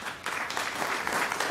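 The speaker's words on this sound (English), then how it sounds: "ask you to give her a round of applause" Attendees at a metropolitan council meeting break into applause after a brief quiet moment, and the clapping stays dense and steady until the end.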